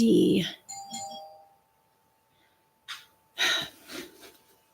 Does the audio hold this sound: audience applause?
no